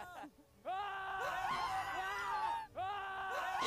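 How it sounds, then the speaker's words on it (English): Several people scream together in loud, overlapping, sustained shrieks, in two long waves with a brief break between them. "When one person screams, they all scream."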